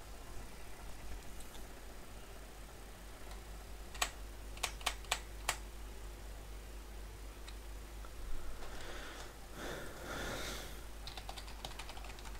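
Keystrokes on a lit-up computer keyboard picked up at a second-hand market, a few sharp isolated taps in a short burst, then a softer patch of rapid clicking, all fairly faint over a steady low hum.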